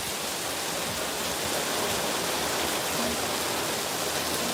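A monsoon storm keeps pouring on the Las Vegas Strip, producing a thick, unbroken hiss of heavy rain close around, constant in level and free of speech.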